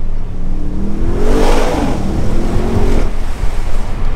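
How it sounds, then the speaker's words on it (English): An Audi RS6 Performance engine surges and revs through its standard sports exhaust with a rising, throaty roar, heard from inside over steady road rumble. "Standard sports exhaust does sound good though."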